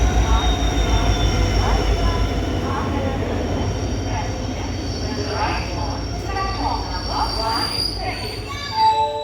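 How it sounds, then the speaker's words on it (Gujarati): The Gandhigram Bhavnagar Express pulls into a station with a rumble of wheels and high squeals from the rails, heard close and steady. Voices carry faintly in the background. "ગાંધીગ્રામ ભાવનગર એક્સપ્રેસ એક્ઝેક્ટ 6:55 આવી ગઈ"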